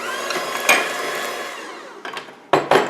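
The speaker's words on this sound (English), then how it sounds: "I'm just going to use the mixer" An electric mixer whirs loudly while blending a tofu mixture with a splash of almond milk, the motor winding down, then giving two short bursts of whirring toward the end.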